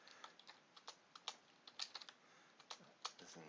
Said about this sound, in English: This is me typing badly over and over again